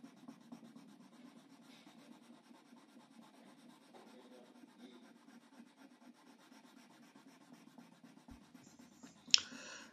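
Sandpaper rubs back and forth across a surface by hand in a faint, steady scratching rhythm, ending with a brief sharper scrape near the close.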